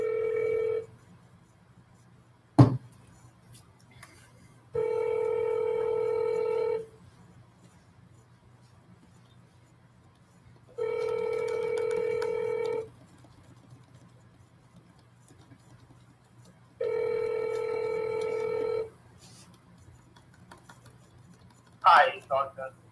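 A telephone call ringing out to an investor: three long, evenly spaced electronic ring tones separated by silence over a low steady hum, clear and moderately loud, with a brief click early and a short voice at the very end.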